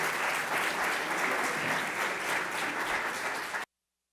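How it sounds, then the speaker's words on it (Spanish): A graduates' forum audience applauds a guest with dense, even clapping held at a steady level for several seconds before cutting off abruptly. "démosle un fuerte abrazo y aplauso a Andrés"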